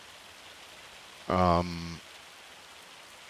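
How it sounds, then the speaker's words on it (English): Steady rain hisses across a farm in Farming Simulator 25 during plowing, a soft even wash of noise throughout, with a brief spoken filler word partway in. "It has been raining this whole time that I've been doing the plowing."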